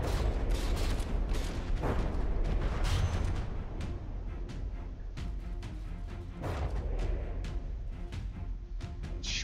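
Naval cannon fire in the ship-combat game From the Depths, a dense, loud barrage of booming shots and crashing impacts rolling on continuously, some volleys closer and sharper than others.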